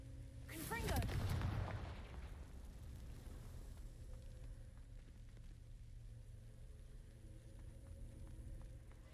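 A Confringo spell blast in the Hogwarts Legacy video game erupts with a deep booming burst and crackle early on, then fades into a low rumbling game background.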